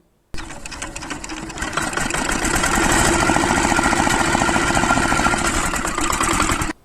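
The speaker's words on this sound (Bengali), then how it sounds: "এরকম মোটরসাইকেল চালালে শব্দ দূষণ হবে" A loud motorcycle engine revs up and runs at a rapid, buzzing rattle for several seconds before cutting off abruptly.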